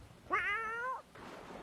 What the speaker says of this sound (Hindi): एक बिल्ली रसोई घर से उछलकर उसके ऊपर कूदी।